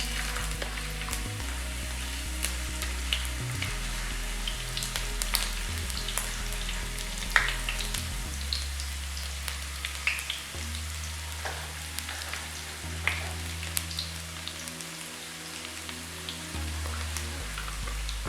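Chopped ginger sizzles steadily in hot oil in a pan while tuna fish head curry is being cooked, with continuous frying crackle and occasional stirring scrapes throughout, no voices.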